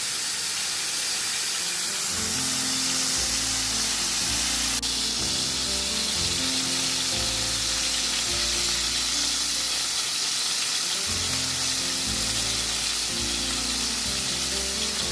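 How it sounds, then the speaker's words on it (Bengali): Delicate sea fish frying gently in oil, a continuous bright hissing sizzle that stays loud and close throughout, layered over a low steady hum, with no one speaking. "সি ফিশটা আমাদের অনেকটাই নরম, যার জন্য এটাকে খুব হালকাভাবে ভেজে তুলতে হবে"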